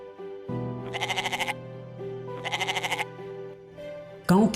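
Goats bleating in an Indian village, two loud vibrato bleats about a second apart over a steady low drone, with a brief harsh burst at the end.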